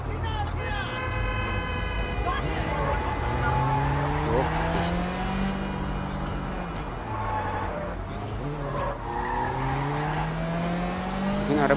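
A car races through traffic in the video game Sleeping Dogs, its engine revving up and down with rising and falling pitch, tires squealing at times, and sirens in the mix under steady background noise.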